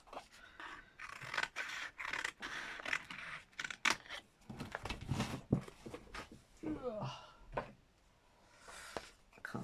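Scissors trimming a paper card close by, with short snipping and scraping sounds broken up by soft handling noises and quiet murmured talk.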